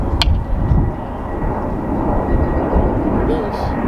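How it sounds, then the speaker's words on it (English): A low-flying airplane passes near a hotel close to Elizabethtown, Kentucky, its broad engine roar steady and loud throughout, with a brief sharp click near the start. "Uh-oh, I hear a plane."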